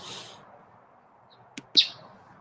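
A bird nicknamed Chirpy gives a couple of short, sharp chirps in the morning, brief and fairly close against a quiet background.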